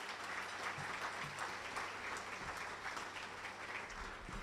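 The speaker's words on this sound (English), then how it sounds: "If I could have a round of applause for our leadership team." Audience applause for a school district leadership team at a superintendent's State of the District address, steady sustained clapping from a large crowd filling the room, with faint murmurs underneath.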